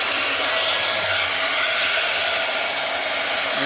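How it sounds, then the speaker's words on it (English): Heat gun blowing steadily on a plastic journal cover, a loud, continuous close-up airy roar with no talk and no change in level. "let me see if I can hold it and put the heat gun to it so you can watch it change."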